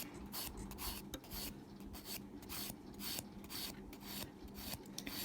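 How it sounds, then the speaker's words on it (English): Acrylic nails being buffed with a file, a steady raspy back-and-forth rubbing in repeated strokes, close and continuous with no talking. "let's keep buffing"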